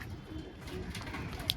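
Giribaz pigeons cooing softly in a low, steady rolling murmur, close by with no talk, and a faint brief chirp near the end.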